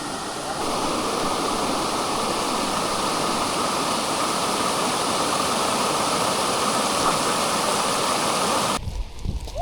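Steady rushing water of a drinking-water stream on a mountain trek flows loud and continuous, a close stream pouring without pause until it cuts off near the end.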